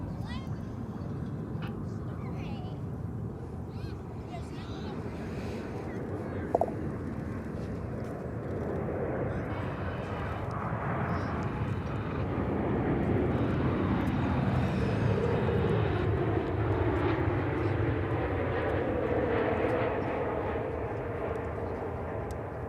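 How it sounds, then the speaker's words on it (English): American Airlines Boeing 787 departing Dallas/Fort Worth, a long jet roar that swells and rises in pitch as it passes, with radio talk over it. "It's a 787. Departure American 1961."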